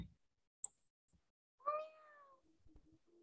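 A single short cat meow rises clearly after a brief click, followed by faint low sounds. The setting is otherwise quiet.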